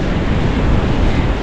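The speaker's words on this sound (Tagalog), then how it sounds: "Lakas ng alon." Strong waves on a river during a powerful typhoon in Bucana, a loud, steady roar of rushing water with heavy wind buffeting the microphone, no voices.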